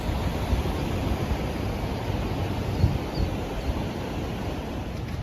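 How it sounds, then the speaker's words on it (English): Steady broadband rush of water from falls and waterfalls, a constant dense roar at moderate distance with no breaks and no voices. "So here we have it's a falls, and there's waterfalls."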